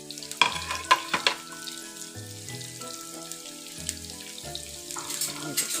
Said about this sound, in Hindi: प्याज फ्राई हो रहा है